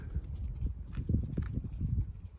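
Many hooves patter and scuff on the ground as a group of sheep walks past nearby, an uneven steady trampling.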